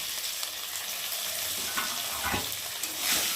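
Spice paste of ginger, cumin and garlic with chopped tomato, turmeric and chili powder stir-fried in a pan for a lentil fritter curry, a continuous close sizzle with repeated spatula scrapes and stirring.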